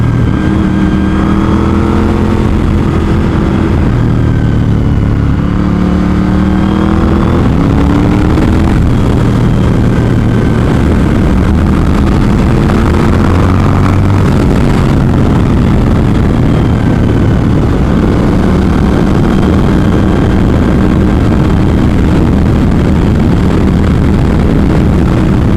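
A Suzuki SV1000S V2 motorcycle engine rumbling continuously on Arkansas Highway 123 North toward Mount Judea, a loud, close, steady drone with shifting pitch as the rider works through the road, plus wind noise.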